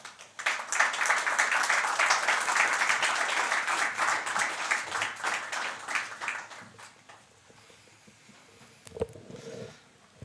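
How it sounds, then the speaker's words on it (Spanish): Sustained applause from a church congregation at a Sunday service, dense and loud for about seven seconds before fading, with a brief muffled thump and murmur near the end. "recibimos con un fuerte aplauso"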